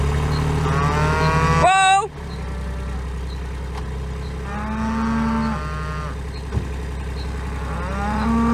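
Cows moo loudly and nearby in several drawn-out calls, some overlapping, over the constant low rumble of an idling engine on a farm where a trailer is being moved through the herd.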